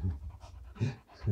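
At feeding time in the French countryside, a dog pants close by in quick breathy bursts, rhythmic huffs with short pauses between them and no talk.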